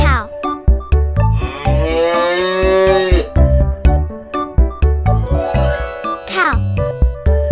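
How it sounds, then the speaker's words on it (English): A cow moos in long drawn-out calls over a bouncy children's tune with jingling percussion, the lowing loud and close in the middle of the clip. "This is cow."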